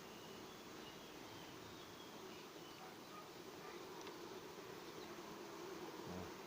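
A steady, dense hum of many honeybees buzzing close by at an open hive, continuous and even throughout, with no talking.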